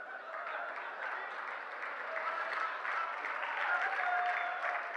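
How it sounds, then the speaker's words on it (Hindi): An audience at a Hindi comedy poetry recital gives sparse, slow applause, a thin and steady patter of clapping sustained for several seconds. "ये राजस्थान के लोग हैं, धीमी तालियां क्यों बजा रहे हैं?"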